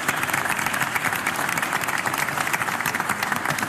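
A church congregation at an Easter Vigil Mass in Ireland claps in a full, even burst of applause that fills the space and holds steady from start to finish.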